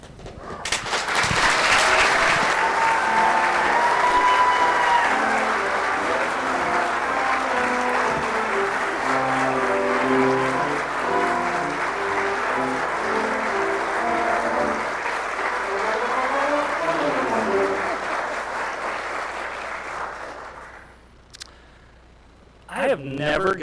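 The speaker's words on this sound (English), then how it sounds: "I have never gotten that much applause when I've come out here before" Large audience applauding as First Lady Jill Biden takes the stage at a military spouse employment ceremony, loud sustained clapping for about twenty seconds that fades out, followed by a brief sound at the end.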